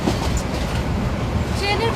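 Interior of a moving train, a steady, loud low rumble of the carriage running continuously for the whole stretch with faint voices mixed in.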